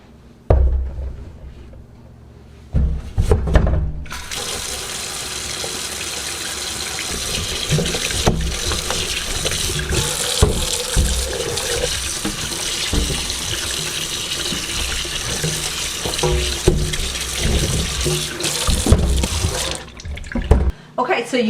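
Pie pumpkins washed under a running kitchen tap, a steady loud gush of water splashing into a sink for about twenty seconds, with handling noises and bumps in the stream.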